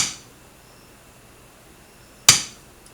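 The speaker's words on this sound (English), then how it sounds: "Each one of them you're smacking with a hammer" A single sharp hammer strike rings out in a quiet shop while making a leather knife case, preceded by the fading tail of an earlier blow.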